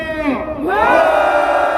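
A protest crowd at a political rally roars in unison, a loud sustained shout of many voices that swells and holds, preceded by a single amplified voice calling out.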